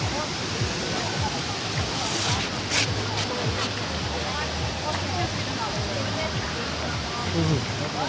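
Kravica waterfall in Bosnia and Herzegovina roars as a dense, continuous wash of falling water, steady and enveloping throughout, with faint voices of visitors briefly rising above it.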